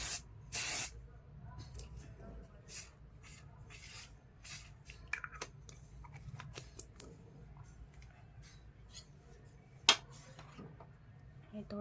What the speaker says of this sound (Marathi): असा फिक्सर मारते.